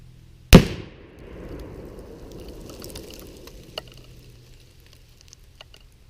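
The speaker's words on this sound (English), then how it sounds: "That was a huge explosion." A 1 lb tannerite target is shot and explodes at a distance of about 100 yards: one sudden loud boom that rolls off into a long, fading rumble.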